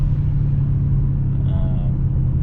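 A car fitted with a PFA Motorsports intake drives along, giving a loud, steady low engine rumble and road noise heard from inside, with faint voice-like sounds briefly in the middle.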